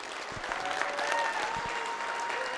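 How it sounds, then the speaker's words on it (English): Conference audience applauding the founder at a closing ceremony, steady crowd clapping throughout at moderate distance, with faint tonal hum underneath. "Let's give a round of applause, everyone."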